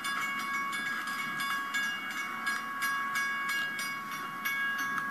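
A model train runs steadily on its track, giving a continuous rolling hum with faint rhythmic clicking and a high electrical whine throughout, close and fairly quiet.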